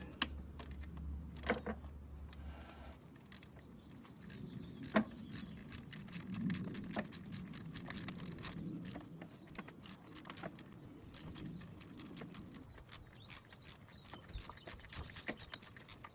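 A bolt is worked out of the oil pump on a 1993 Ford Taurus 3.8, with rapid metallic ratchet clicks and tool rattles coming in quick bursts and runs, close and fairly faint.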